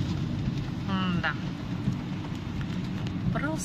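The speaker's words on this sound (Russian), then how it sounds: "Просто летний дождь прошел. Хороший летний дождь." Steady summer rain in Ryazan patters on a surface with broadband hiss, while faint voices murmur briefly in the background.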